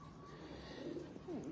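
A domestic pigeon coos softly from a rooftop loft, a low, faint rolling call heard briefly against a constant background hum.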